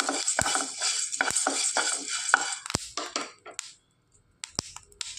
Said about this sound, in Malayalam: ഇളക്കി കൊടുത്ത് ഇതൊരു പാത്രത്തിലേക്ക് മാറ്റാം.